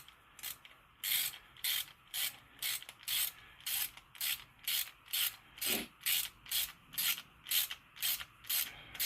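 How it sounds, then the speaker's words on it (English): A hand socket ratchet with a 3/4 inch socket tightening a 3/4 inch bolt on a DIY hand dredge pump, giving a steady run of about twenty sharp, evenly spaced clicking strokes, close and alone. "this is a 3/4 inch bolt, so just get you a 3/4 inch socket"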